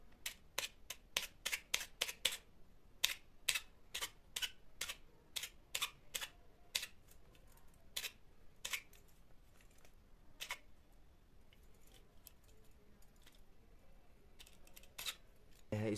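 Holes being poked into hookah foil, a quick series of sharp, close ticks and pricks, dense clusters at first and then sparser, with quiet gaps between and no talking.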